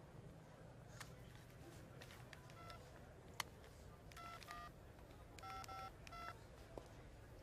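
Telephone keypad tones ring out as a number is punched in for an urgent call from a borrowed phone before a flight, in short bursts of beeps and clusters over a quiet room murmur.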